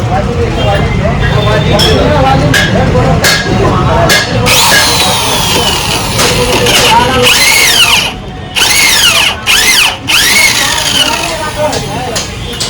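A power drill bores holes in a metal plate to fit a new handlebar mount on a Bajaj RS200 stunt motorcycle. The loud, close whine keeps rising and falling in pitch, with brief pauses near the end.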